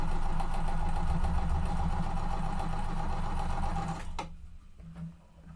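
A sewing machine stitches triangle quilt pieces with a loud, steady mechanical whir close by, running continuously for about four seconds before stopping abruptly and leaving some quieter handling noise.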